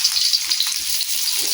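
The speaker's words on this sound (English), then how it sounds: "We will saute the onions and also ginger and garlic" Onion, ginger and garlic sauteing in oil in a pan, a steady bright hiss and sizzle throughout, close and fairly loud, with no talking.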